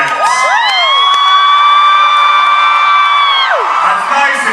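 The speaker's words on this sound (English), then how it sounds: "you don't have to cheer for Hank" An audience at a fan event for The Fault in Our Stars cheers loudly for Hank, its shrill whoops and screams sustained for several seconds close up before tapering off.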